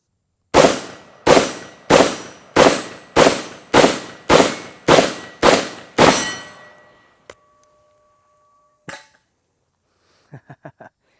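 Vepr 12 shotgun firing nine loud, sharp reports in a steady rhythm about two-thirds of a second apart, each ringing briefly, followed by quieter mechanical clicks and clacks of the action.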